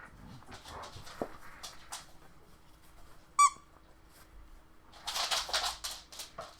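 A dog plays with a squeaky rubber duck toy indoors, giving one sharp, close squeak midway through, amid soft shuffling, panting and movement noises, with no talking.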